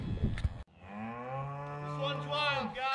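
A calf lets out one long, close moo during a cattle vaccination, after a brief burst of handling noise.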